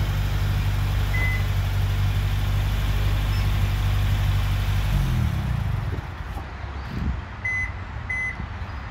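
A 2019 Subaru WRX with manual transmission idles on remote start with a steady low engine rumble, then shuts off around midway, leaving quieter ambient sound broken by a few short electronic beeps.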